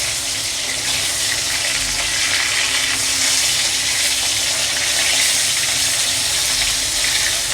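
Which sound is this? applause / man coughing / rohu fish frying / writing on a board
rohu fish frying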